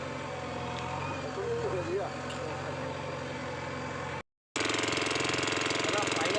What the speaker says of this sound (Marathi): मशीन चालू झाली आहे मध्ये बंद पडली होती